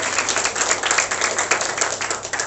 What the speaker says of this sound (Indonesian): Tepuk tangan hanya buat Tuhan yang kasih.